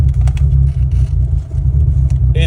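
A Volkswagen Jetta wagon with a rough-running, popping engine rumbles steadily at low pitch from inside the car, with a few brief higher bursts and sharp pops on top of the constant drone.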